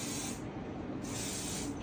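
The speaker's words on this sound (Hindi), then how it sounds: "देन हेयर स्प्रे कर दो खोलने के बाद" Hair spray hisses from an aerosol can onto hair while styling a messy bun, two long, close, steady bursts with a brief pause between them.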